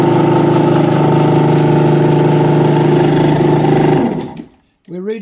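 A British motorcycle with a Lucas electrical system runs during an alternator test, its engine a loud, steady, close hum that cuts off after about four seconds, followed by a brief silence and then someone talking.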